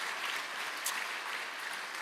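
A church congregation claps together in a brief, dense burst of steady applause during a Sunday worship service.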